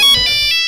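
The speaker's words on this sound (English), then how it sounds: "The phone's ringing again." A telephone ringtone sounds in a salon setting during a live cabaret stage show, a short bright electronic ring with a few pulsing tones, close and loud, with no talking over it.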